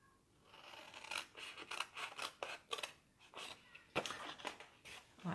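Scissors snipping through material while making a homemade phone stand, a quick series of close, crisp cutting strokes in an irregular rhythm.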